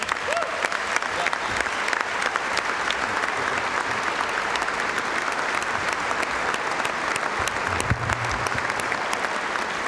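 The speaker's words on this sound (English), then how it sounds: "How about one more gigantic round of applause for all of our honorees" A large banquet audience at a sports hall of fame induction dinner applauds the honorees, dense sustained clapping filling the room for the whole stretch.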